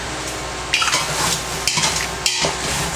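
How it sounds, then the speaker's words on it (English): A spoon stirs celery through vegan ramen broth in a pot over gentle sizzling, with several distinct scraping knocks against the pot and a steady frying hiss beneath, close and clear with no talk. "We're just gonna get that down into the pot. I'll give it a stir."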